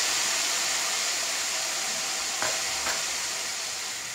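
Jackfruit pieces for crispy chakka varuthathu sizzle steadily in hot oil after a pour of salt and turmeric water, a dense continuous frying hiss with a couple of faint clinks, heard alone.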